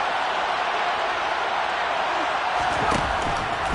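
A stadium crowd in an American football video game, Broncos versus Raiders, roaring steadily ahead of a big third down, a dense continuous wash of cheering that swells slightly toward the end.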